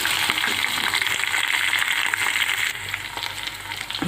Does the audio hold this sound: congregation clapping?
no